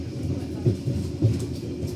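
The Airlangga economy train rumbles along the rails in a steady, low roar with faint rhythmic clacks from the wheels, heard from inside the moving carriage.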